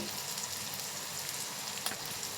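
Ground spices such as garam masala, red chilli and coriander powder sauté in a pan, a brief steady frying sizzle with a faint stir, no talking.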